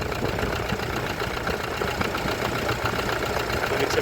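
A Toyota Hilux 3.0 D4D diesel engine runs after cranking, idling with a steady, rough, knocking clatter close by.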